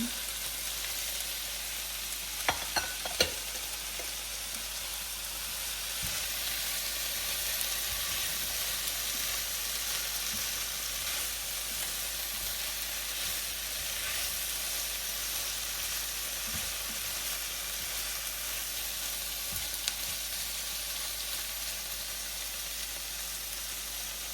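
Okra fries in a pan, giving a steady, even sizzling hiss that runs unbroken for the whole stretch, with a few faint clicks near the start and no talk.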